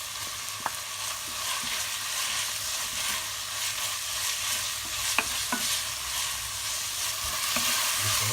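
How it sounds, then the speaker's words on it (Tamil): Tomato, onion and ginger-garlic paste sauté in a pan for a crab fry, giving a steady, close sizzle with a few light spatula scrapes and taps, with no talking. "தக்காளியும் வெங்காயம் கொஞ்சம் வதங்கட்டும். இப்போ இஞ்சி பூண்டு பேஸ்ட்,"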